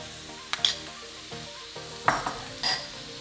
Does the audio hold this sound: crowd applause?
no